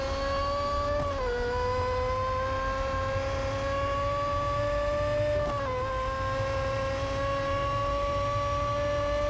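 Race car engine in Real Racing 3 holding a loud, steady high whine, with two brief dips in pitch like quick gear shifts before climbing again, continuous throughout.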